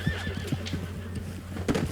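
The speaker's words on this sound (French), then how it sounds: "Viens ici mon cheval." A horse neighs in a loud, shrill whinny near the end, after a run of rhythmic hoof clip-clops and a low steady hum, with no talking.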